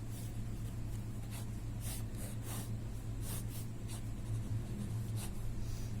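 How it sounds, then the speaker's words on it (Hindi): A pen scratches out short, separate writing strokes on paper in an irregular rhythm, faint and close, over a steady low hum with no talking. "यहां पर लिख लेते हैं पॉइंट्स को"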